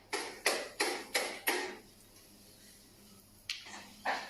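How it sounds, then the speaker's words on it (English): Sharp knocks strike a door, four evenly spaced raps in quick succession, then a pause of quiet room tone before two more isolated knocks follow. "Strange knocking can be heard at the door, but there's clearly no one there."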